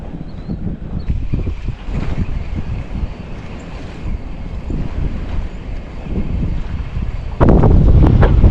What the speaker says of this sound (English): Yeah, that wind is tough.